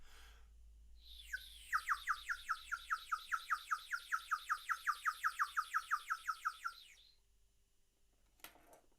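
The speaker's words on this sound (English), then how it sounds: "The birds would stop tweeting gently" A rapid, evenly spaced series of bright bird chirps, about two dozen notes in a steady rhythm, rings out close and clear for several seconds before ending abruptly, followed by a faint brief sound.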